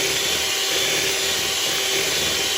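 Cream is whipped for tiramisu, producing a loud, steady, close motor whir with a rushing hiss that never lets up, and no one speaks.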